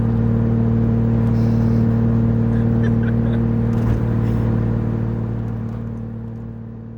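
A turbocharged BMW E36 M52 engine runs steadily at close range, a strong low drone with a dense harmonic hum, easing off slightly toward the end.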